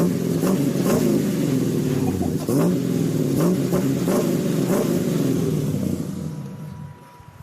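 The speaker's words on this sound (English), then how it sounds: "Listen to this IROC. That's what the IROC sounded like." An old IROC car's engine revs hard in a loud, continuous roar with repeated throttle pulses, played back from a recording, then fades out over the last second.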